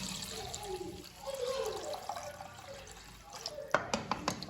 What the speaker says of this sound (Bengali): এবারটা আমি এর মধ্যে বন্ধুরা জল ঢেলে দেবো পরিমাণ মতো